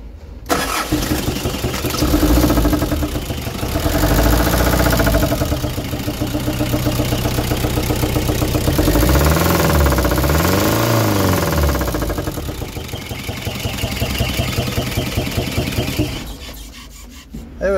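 A car engine idling with a worrying knocking sound, a loud continuous mechanical rumble with rasping texture and rhythmic knocking pulses, cutting in and out at the ends.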